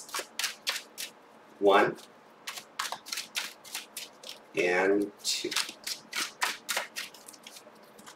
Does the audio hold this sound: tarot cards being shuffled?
yes